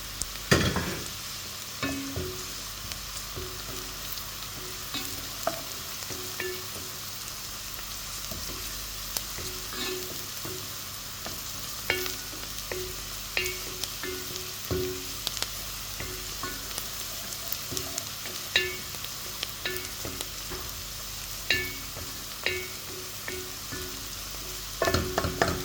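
Garlic fries in a pot for vegetable rice, giving a continuous close sizzle with frequent clicks and scrapes of a utensil stirring through it, steady throughout and with no voices.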